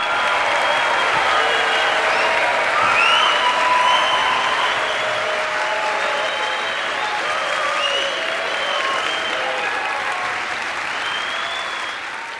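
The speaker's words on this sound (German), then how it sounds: "Ich bitte Sie jetzt um den Wertungsapplaus für Mathilde." Audience at a poetry slam applauding to score a performer: dense, steady clapping from a large crowd, loud and sustained throughout, tapering slightly at the end, with no speech over it.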